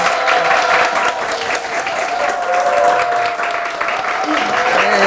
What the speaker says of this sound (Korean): 선생님을 뜨거운 박수로 환영합니다.